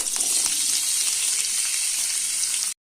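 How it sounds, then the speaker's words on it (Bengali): Potatoes and sweet potatoes fry in hot oil with black cumin, a steady close sizzle with faint crackles that runs unbroken for almost three seconds, then cuts off abruptly. "এটাকে একটু ভেজে নেব, আলু আর মিষ্টি আলুকে একটু ভেজে নেব।"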